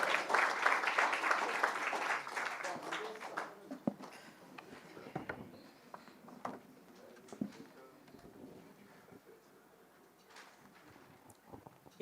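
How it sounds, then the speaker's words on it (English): Audience applause at a memorial lecture: a burst of lively clapping for a few seconds tapers into scattered claps and a quiet room, where pigeons coo softly in the background. "Clap for Nadia."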